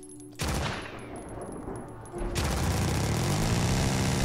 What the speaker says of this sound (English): this gun sounds amazing